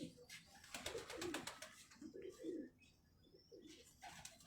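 Pigeons cooing softly in a loft, with low throaty coos repeating among scattered chirps and light rustling, faint and close.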